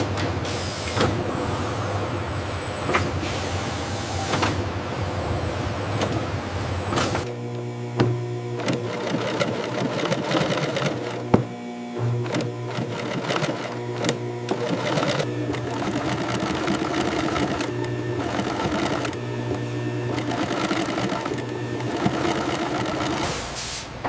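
Industrial sewing machine stitching crocodile leather goods, a steady continuous mechanical whir with rapid needle chatter throughout, close and loud, no talking.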